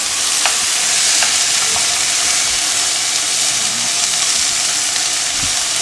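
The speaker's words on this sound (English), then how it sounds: "when you sear the meat, it closes them up so that all the juices will really stay in" Meat searing in a hot pan for jambalaya, a steady loud sizzle and frying hiss with faint stirring clicks, continuous throughout with no talking.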